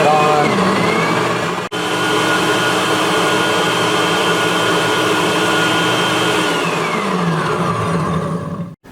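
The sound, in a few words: blender pureeing kale salad vinaigrette ingredients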